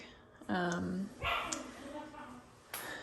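A puppy gives a few quick, high yips and barks in a room being cleaned out for a closet renovation, moderately close with short gaps between.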